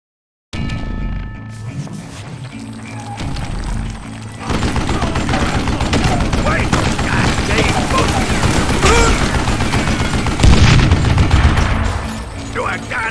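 Gunfire in the western shooter Call of Juarez: Gunslinger, a continuous stretch of rapid shots and booms that grows denser and louder midway, with someone talking underneath.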